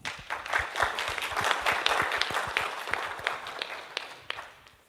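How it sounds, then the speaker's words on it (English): An audience at an evening talk on Palestinian history applauds to welcome a candidate for Illinois District 8, a sparse, loose patter of individual claps that builds, holds, and thins out near the end with no talking. "Join me in an applause."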